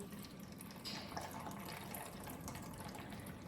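Water runs steadily into an indoor hydroponic garden reservoir, filling it to the 3-liter mark with a continuous pouring and trickling wash and no voices.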